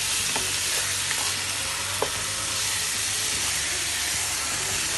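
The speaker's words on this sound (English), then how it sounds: "we'll take our lamb minced and mix it well with the vegetables" Lamb mince frying with partially cooked vegetables in a pan, a dense, steady hissing sizzle with a couple of soft stirring knocks, close and continuous.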